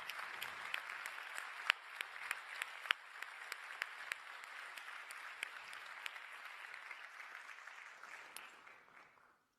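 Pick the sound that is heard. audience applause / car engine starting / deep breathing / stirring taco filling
audience applause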